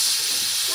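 A kitchen pressure cooker hisses with steam, a steady broadband rush that runs unbroken and close for under a second with no voices over it.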